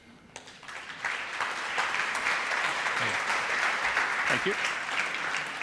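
Steady audience applause at a conference in Riga for a speaker, sustained clapping that builds after the first second and holds evenly, with a brief spoken thanks near the start.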